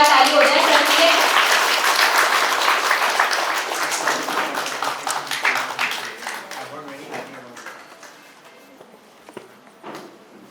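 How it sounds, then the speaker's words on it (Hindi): An on-stage guest receives loud audience applause that starts as a dense, full roar of clapping and gradually thins into scattered claps as it fades out, with some talk mixed in. "एक जोरदार ताली हो जाए सर के लिए।"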